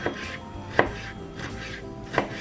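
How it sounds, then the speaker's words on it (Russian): A knife dices a tomato on a cutting board in a few sharp, close taps spaced unevenly, with soft slicing scrapes between them. "Таким образом нарезаю помидор"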